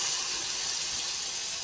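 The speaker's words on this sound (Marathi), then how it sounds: "आता आपण पाणी ओतून घेऊ" Hot water poured into a pan of fried curry masala for a rassa, a brief steady hissing, splashing pour heard close up and on its own.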